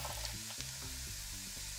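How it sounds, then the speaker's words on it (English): Butter, olive oil, minced garlic and crushed red pepper flakes sizzle in a medium skillet, a faint, steady frying hiss with soft periodic clinks, no voices. "When you get the sizzle after about a minute or two"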